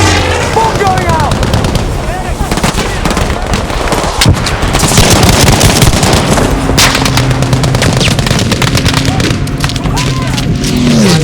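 Bomb explosions and heavy gunfire in the video game Battlefield 5 during a Grand Operations battle, a loud dense barrage of blasts and shots with voices shouting throughout.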